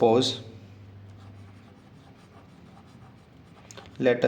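A marker or chalk scratches across a board during a geometry lesson, with short strokes between bursts of a teacher's speech at the start and end.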